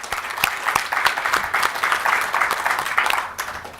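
Audience at an ABA annual general meeting breaks into applause, a dense run of sharp overlapping claps held at a fairly loud level throughout.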